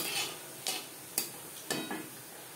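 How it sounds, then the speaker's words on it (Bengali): Whole cumin seeds and dried chili frying in refined oil, a soft steady sizzle broken by three or four sharp ticking taps of a spoon against the pan. "লঙ্কা ভেজে নেওয়ার পর দিয়ে দেবো 1/2 চামচ গোটা জিরে"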